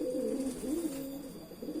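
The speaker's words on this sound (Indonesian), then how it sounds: "saya lagi jemur burung merpati supaya sehat ngotot kawin" Pigeons sitting out in the sun give soft, low, rolling coos close to the microphone, a continuous murmuring call that rises and falls over a quiet background.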